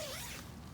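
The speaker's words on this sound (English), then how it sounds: "zipper fly on both sides" Zipper on the fly of a Big Agnes tent, a single quick pull with a bright rising rasp, close and clear, trailing into soft rustle of tent fabric.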